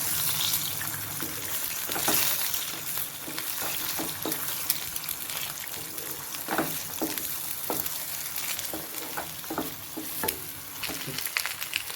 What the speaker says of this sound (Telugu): ఇలా 5 గుడ్లు పగలగొట్టి కళాయిలో వేసి ఆయిల్లో ఫ్రై చేసుకోవాలి.